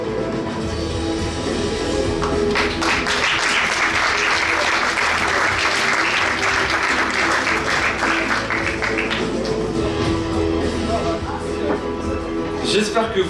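An audience at a comedy show breaks into loud applause and cheering that swells for several seconds and then fades, with a performer talking before and after.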